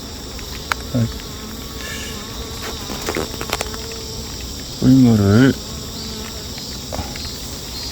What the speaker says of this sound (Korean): 여기에 꿀벌들을 붙여보겠습니다